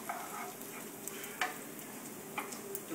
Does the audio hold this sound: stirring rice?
yes